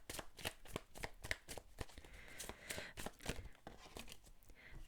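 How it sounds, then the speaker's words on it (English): Tarot cards shuffled by hand in quick repeated riffling bursts, close and fairly quiet, with no talking. "I'm gonna pull more tarot cards."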